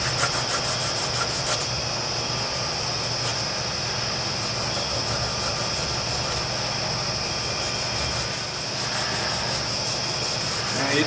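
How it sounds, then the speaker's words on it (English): Hand sanding of a stabilized wood knife handle held in a knife vise, using 400 and 600 grit sandpaper on intricate areas; a steady, continuous close rubbing and scraping texture runs throughout with no pauses. "we're going to do a little bit of hand sanding on here now in the knife vise, just in some of the more intricate areas"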